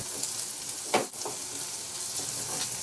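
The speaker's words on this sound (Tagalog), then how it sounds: "Iprito ko lang din hanggang sa maluto yung saging." Potatoes, carrots and saba bananas frying in oil in a pan, a steady close hiss of sizzling with a couple of brief stirring scrapes near the start, no voices.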